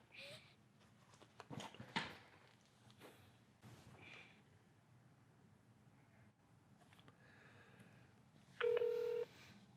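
A phone is dialed during a call-center authentication demo, with short keypad tones and handling noises close by, ending in a sustained touch-tone beep, and faint speech in the background.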